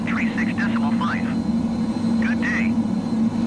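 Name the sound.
F-15C jet engine in Microsoft Flight Simulator 2020 video game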